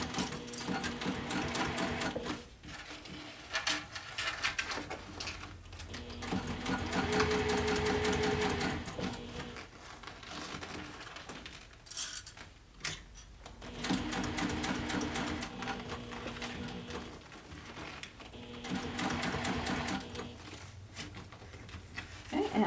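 A sewing machine stitches a bag in several runs of steady mechanical whirring, stopping and restarting, with a person speaking quietly in between.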